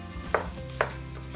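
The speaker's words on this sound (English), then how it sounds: "while everything is cooking in the pan" Sausage and pasta cook together in a pan under a soft sizzle, broken by two distinct utensil clinks against the pan about half a second apart.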